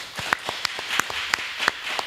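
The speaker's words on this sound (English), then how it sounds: "let's give them a round of applause, everybody" An audience claps at the close of a church discussion program, a modest scattering of individual hand claps in an uneven rhythm, fairly close and without cheering.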